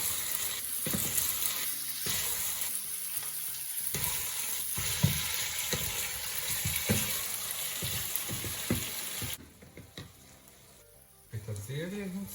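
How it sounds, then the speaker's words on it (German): Meat mixture for Balkan-style moussaka frying in a pan: a steady, close sizzle with occasional stirring scrapes, easing off and quieting near the end before briefly returning. "dann kann das ja in Ruhe schön weiter braten"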